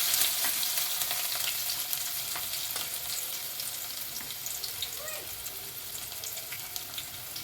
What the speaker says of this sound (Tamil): கடுகு சோம்பு பொரிஞ்சிருச்சு. அடுத்து வந்துட்டு வெங்காயம் போட்டேன்.